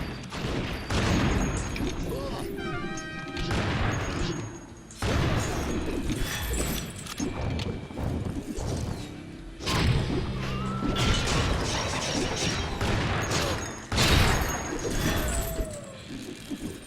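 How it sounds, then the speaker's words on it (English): Rapid bursts of gunfire, crashes and thuds from the Secret Ponchos video game, with repeated shots spread across the whole stretch as one loud, busy mix of game effects. "Hardest part with Trapper is not shooting my teammates"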